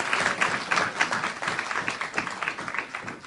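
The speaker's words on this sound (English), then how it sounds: "let's give him a round of applause." An audience applauds at a launch event, dense clapping that rises and falls in uneven waves, close and lively, with no voices over it.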